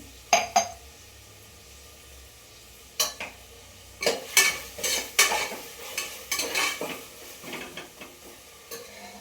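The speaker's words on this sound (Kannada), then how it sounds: "ಈಗ ಟೊಮೊಟೊ ಒಂದು ಸ್ವಲ್ಪ ಫ್ರೈ ಆಗ್ತಾಯಿದೆ." Tomato frying in a pan at home, with a faint sizzle under a series of sharp spoon scrapes and clinks against the pan in irregular bursts, no talking.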